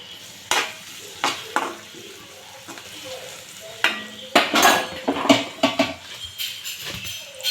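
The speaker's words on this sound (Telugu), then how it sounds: "ఇక్కడ ఇందులో వెల్లుల్లి, అలానే ఆనియన్, పచ్చిమిర్చి అండి, ఇదైతే దూరగా వేయించుకోవాలి." Garlic, onion and green chillies fry in a pan, a light sizzle punctuated by sharp metallic scrapes and clinks of a spatula, stirring in bursts that grow busier toward the end.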